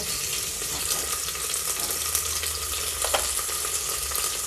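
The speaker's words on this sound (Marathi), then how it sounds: "उभी दोन उभी मिरची कापून घेऊ दोनच मिरच्या टाकायच्या" Two slit green chillies tossed into hot oil with onion for a moong dal khichdi, giving a steady, close sizzle of frying that holds at an even level throughout, with faint stirring clicks.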